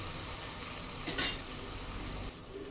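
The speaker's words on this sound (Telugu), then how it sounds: "మిక్స్ చేద్దాం బాగా." A spoon stirs ground chili paste into vegetables sizzling in a pan, giving a steady frying hiss with a brief scraping clatter in the middle.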